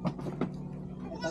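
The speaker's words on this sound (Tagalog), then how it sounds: "Ito yung kambing na bibili natin" An eight-month-old goat gives a few short bleats close by, in quick succession over a second and a half, with faint background voices.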